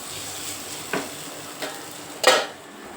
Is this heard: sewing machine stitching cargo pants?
no